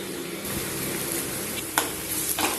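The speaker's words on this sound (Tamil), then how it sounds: "வெங்காயம் வதங்கிட்டு இருக்கும்போதே நம்ம வந்து பூண்டையும் ஆட் பண்ணிடலாம்." Sliced onions and crushed garlic cloves frying in oil in a pan, giving a steady close sizzle with a few sharper spatters and stirring scrapes.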